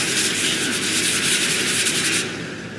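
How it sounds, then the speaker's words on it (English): Steady, close scratchy rasping of sandpaper rubbed back and forth by hand on a wooden duck call, continuous and fairly loud before easing off at the end. "And then just do your little sanding."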